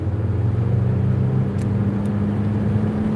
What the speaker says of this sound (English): It's a 4AGE Toyota engine.